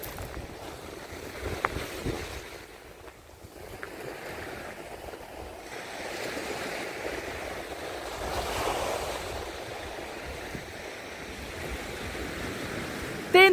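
Sea waves wash onto the shore at Odesa, a steady broadband surf roar mixed with wind noise, with no talking.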